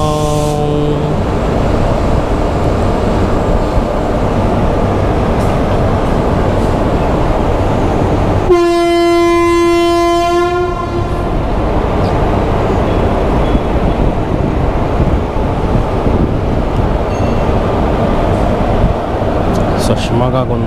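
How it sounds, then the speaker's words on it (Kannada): A passenger train with a Vistadome coach pulls out of Shivamogga station with a steady, loud rumble throughout, broken midway by a strong horn blast lasting about two seconds. "ಇವಾಗ ಟ್ರೈನ್ ಹೊರಟಿದೆ."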